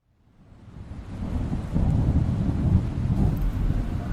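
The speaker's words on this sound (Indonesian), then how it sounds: "Hujan turun begitu lebat dan petir pun terdengar menggelegar." A deep rumble of thunder swells and rolls over steady, heavy rain, building from quiet to a sustained loud roar.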